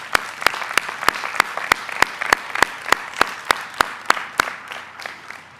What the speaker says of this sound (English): Let's give that a round of applause as well.